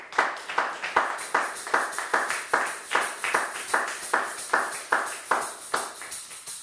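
A church congregation claps in steady unison to acclaim the Lord, with a brisk, even rhythm of sharp claps running throughout, close and fairly loud.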